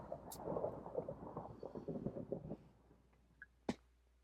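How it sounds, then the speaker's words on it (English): A Minecraft Feed the Beast thunderstorm rolls as a low rumbling swell that fades out, followed by a couple of sharper cracks, all heard fairly close and alone. "Oh, thunderstorm."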